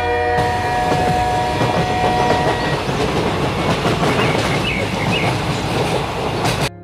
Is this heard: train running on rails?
yes